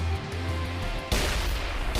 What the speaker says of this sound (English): Blood balls explosion, Supernova.